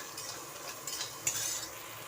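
Onion fries gently in a pan while green tomato chutney is being made. A quiet, steady sizzle runs throughout, with a few soft stirring scrapes.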